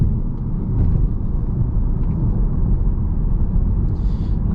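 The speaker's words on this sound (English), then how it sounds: "you could hear the difference in the noise, the engine noise rather." A 2021 Audi TTS engine drones from inside the cabin while driving on the road, a loud, steady low rumble with no voices.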